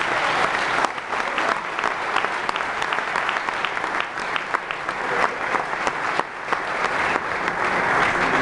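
A church congregation claps together in sustained, dense applause, loud and close throughout with no letup.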